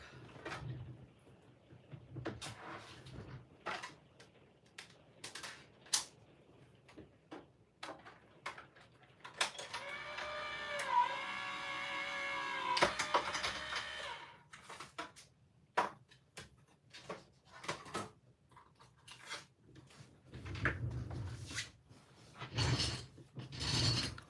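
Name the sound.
die-cutting machine running a card through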